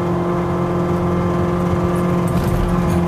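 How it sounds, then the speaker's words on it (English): A car engine runs at wide open throttle, held near 5,100 rpm and short of its 6,100 rpm redline, with a loud, sustained, steady tonal roar and no break. "Yeah, it won't make a wide open 1-2 upshift. It won't even redline."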